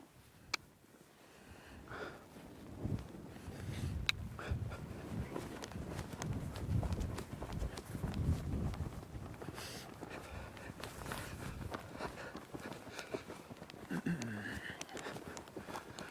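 Young two-year-old horse trotting in a warm-up, soft irregular hoofbeats close by with some snorting and rustle, fairly quiet overall.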